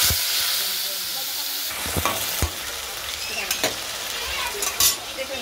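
Dried red chillies frying in hot oil give a steady, close hiss, with sharp crackles and pops breaking through now and then.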